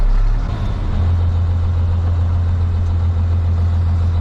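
A 12-valve Cummins drift truck idles close by while another vehicle passes on the road, a loud, steady low engine drone throughout.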